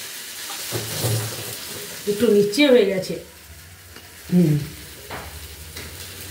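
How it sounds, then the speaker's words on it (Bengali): Everest brand spice masala fries in a pan with a steady, close sizzle while a spatula stirs and scrapes it. Someone talks briefly over the cooking. "মশলা প্রায় আমার ভাজা হয়ে গেছে, দেখো দেখতে পাচ্ছ।"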